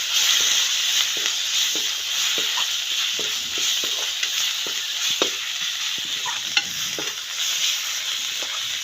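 Tomatoes frying in a pan with cumin and coriander powder, a steady close sizzle and hiss with repeated scraping stirs at an even rhythm.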